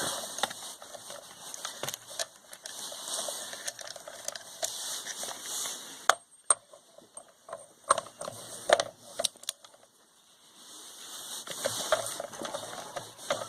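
A torque wrench set to 62.5 foot-pounds clicks and ratchets in short bursts while tightening crankcase bolts during assembly of an engine mated to its transmission, heard close and fairly quiet, with brief pauses between strokes.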